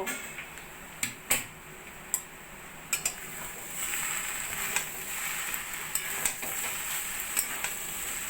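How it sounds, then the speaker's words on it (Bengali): A lid comes off a pot of jackfruit curry cooking on low flame, giving several sharp metallic clinks and taps, and a soft, steady sizzle rises once the pot is uncovered. "এবার আমি ঢাকাটা তুলে দেখে নেব"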